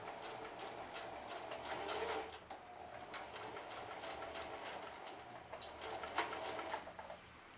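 A sewing machine stitches a jeans pocket, its motor whirring in a steady rapid needle rhythm with short slowdowns, close and fairly quiet, with no voices.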